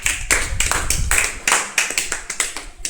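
Children in a classroom maths lesson on shapes clap together in quick, loud bursts of applause, a close, busy patter of many small hands repeated several times with short pauses in between.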